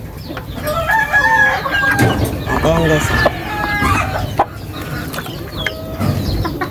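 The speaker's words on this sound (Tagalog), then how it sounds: "itong mga manok ko dito, mga pilyo" Pet chickens cluck and squawk close by while being fed and given vitamins, with a few sharp calls and a crow-like cry over a busy farmyard din, and someone speaks briefly among them.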